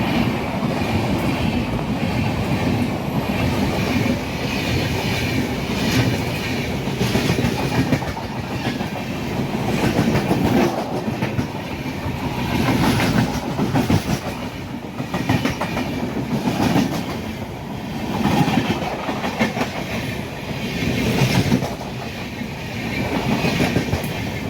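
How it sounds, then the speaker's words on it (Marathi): A train rolls steadily over a railway bridge during heavy monsoon rain, its clickety-clack of wheels on track joints sustained and fairly loud throughout, heard from on board with no talking. "बघा आता आम्ही ट्रेनच्या ब्रिजवरती आहे"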